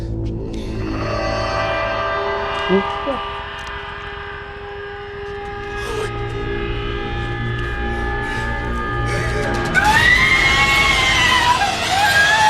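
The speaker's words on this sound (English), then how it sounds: "that nurse death scene where she starts screaming" A nurse screams during a death scene in the 2009 Halloween II horror film, her cries rising over droning siren-like hums and tense score, with a louder, sharper burst of screaming near the end.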